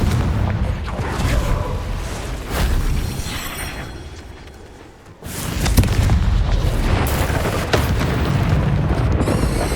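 A Confringo fire spell blasting in the Hogwarts Legacy video game: a loud booming explosion with a crackling tail that fades, a brief lull, then another heavy blast and rumbling impacts, all up close.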